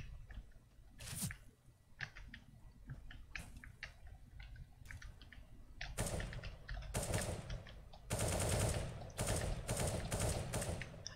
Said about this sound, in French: Une petite rafale de 3 balles là